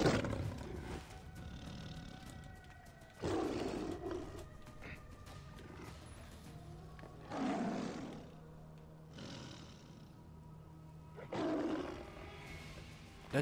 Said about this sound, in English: Oh my god, that is a strong tiger.